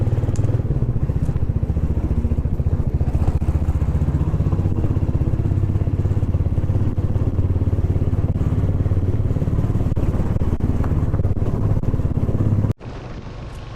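A motorcycle rides along a main road on a trip from Bongaon to Murshidabad, its steady engine drone and wind rushing loudly and close before cutting off abruptly near the end.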